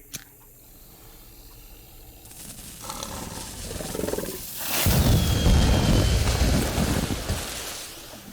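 Fireworks set off at an alligator in the Mystery Trackers video game, a quiet start that swells into a loud, sustained crackling rush of bursts and hiss through the second half, with no talking.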